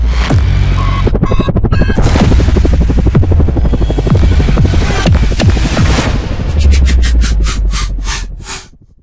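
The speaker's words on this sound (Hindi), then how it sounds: "ये है H-125 और ये ज्यादातर सिविलियन यूज के लिए इस्तेमाल करा जाएगा" Airbus H-125 civil helicopter flying, a steady loud rotor throb and turbine hum running throughout, swelling briefly near the end before fading out quickly.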